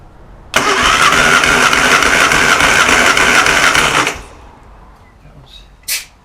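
A 1988 Classic Mini Mayfair engine cranks and catches, running loud and rough for about four seconds before cutting off abruptly, leaving near silence with a brief faint noise at the end.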